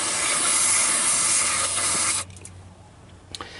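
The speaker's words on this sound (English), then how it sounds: "So obviously we just sprayed the contacts and we get nothing." Contact cleaner hisses from an aerosol can onto the starter contacts of a 1995 EZGO Workhorse golf cart, a steady close spray lasting about two seconds before cutting off into quiet room noise.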